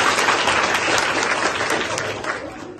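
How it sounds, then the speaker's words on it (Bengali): An audience at a school event at Khalia Secondary School in Mohammadpur, Magura, claps in a sustained burst of dense applause that fades slightly toward the end. "যদি আমাদের ভালো লেগে থাকে তাহলে তো হাততালি আমরা দিতে পারি।"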